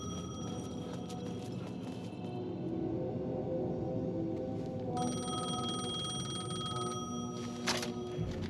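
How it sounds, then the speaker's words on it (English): A payphone rings in Alan Wake 2, its repeated electronic bell tones sounding steadily over a low, rumbling ambient drone, with no voices. "The payphone was ringing."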